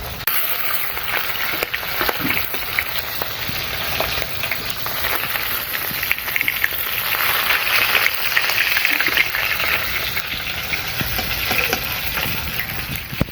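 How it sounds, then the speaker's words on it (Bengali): Ayla fish fry in hot oil with a loud, continuous bubbling sizzle and crackle close up, swelling slightly partway through, with no talking. "বাকিগুলো একই রকম ভাবে ভেজে নেব।"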